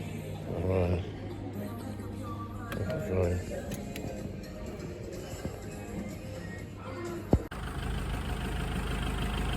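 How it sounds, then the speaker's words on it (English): A FIAT Ducato motorhome engine idles steadily while warming up, giving a low continuous hum under a voice, with a short clunk near the end. "warming the engine up, put a couple of sprays in this in a second and just let it rev through"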